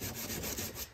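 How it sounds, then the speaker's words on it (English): Close, steady abrasive rubbing as a steel spike tomahawk head is sanded back to bare metal, with quick rhythmic back-and-forth strokes. "give it one more sanding, make everything nice and smooth, make it all bare steel again"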